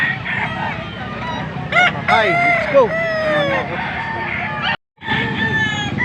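Chickens cluck and roosters crow loudly and repeatedly close by at a Saturday chicken market in the Philippines, with a busy crowd murmuring and a person speaking briefly over the din.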